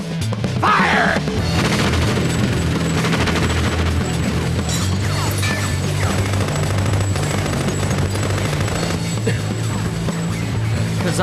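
Dense, sustained battle noise from a Tekken 4 cutscene: rapid gunfire and crashing booms rolling continuously over a low rumble, loud and close with no pauses.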